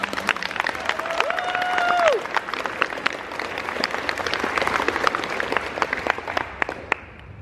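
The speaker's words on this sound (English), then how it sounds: "So one more round of applause for Maya." Audience applause fills a convention panel room at OMG!Con 2016 for Toonfest, a steady wash of many hands clapping that swells and holds for several seconds before tapering off, with a brief tonal whistle early on.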